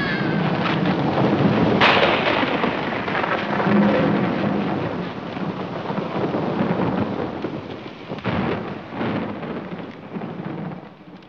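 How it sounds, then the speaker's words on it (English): Thunder from a lightning bolt in a storybook sound effect, a sharp crack followed by long rolling rumble and heavy rain-like noise, loud and continuous with later renewed bursts. "Suddenly, a bolt of lightning shattered the ledge"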